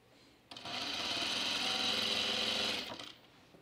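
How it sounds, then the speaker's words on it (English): A serger sewing machine stitches binding on a dress with poorly set tension, running steadily at close range for about two and a half seconds with an abrupt start and stop. "So my tension on my serger isn't that great."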